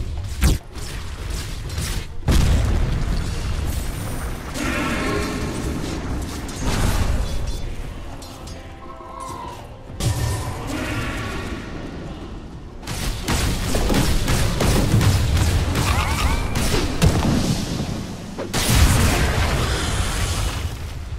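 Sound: Dota 2 tower under attack, video game combat explosions

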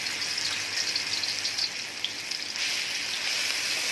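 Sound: pounded chilies frying in hot oil

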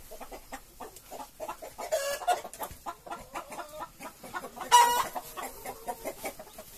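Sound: chickens clucking in a coop

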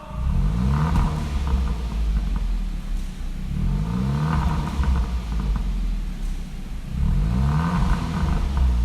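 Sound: Kia K3 GT aftermarket exhaust revving, variable valve off

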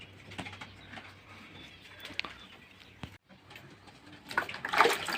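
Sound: pigeons

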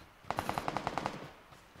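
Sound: rapid pistol gunfire in the video game PUBG Lite

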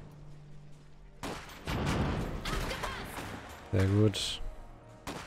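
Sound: gunfire in a video game

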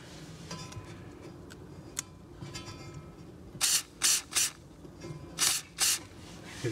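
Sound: spraying white lithium grease on a snowblower

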